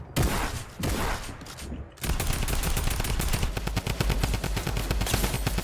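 Rapid gunfire in Fortnite, a loud dense rattle of automatic shots running steadily after a few scattered bursts, with game noise throughout.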